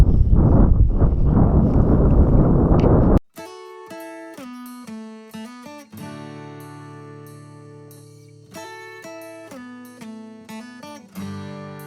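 Wind blowing outdoors by a garden greenhouse, a loud, gusty, rumbling buffeting on the microphone for about three seconds before it cuts abruptly to instrumental music.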